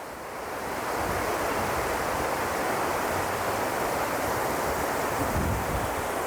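Water rushes past the Bhairab Khanda picnic spot in a constant, loud, close roar that builds in over the first second and then holds steady with no break and no talking.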